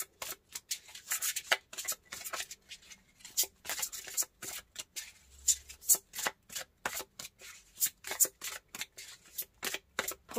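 Tarot cards shuffled by hand sound like soft, quick riffling and slapping strokes in a steady rhythm, close and fairly quiet, with no talking.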